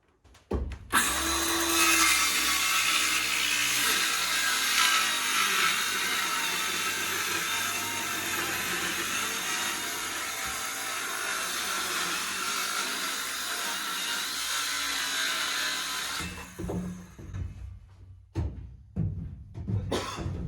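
A power saw cuts a curve out of a ceiling panel inside a bus conversion, a loud, continuous, close whine lasting about fifteen seconds before stopping, followed by a few softer knocks and clatter.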